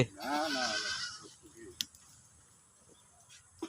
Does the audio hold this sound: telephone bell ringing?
no